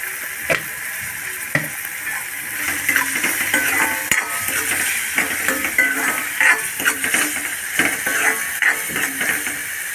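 Tomato with chilli powder, turmeric, coriander powder and salt cooks in a pan, giving a steady close sizzle with occasional scraping stirs and utensil clinks against the pan, with no talking.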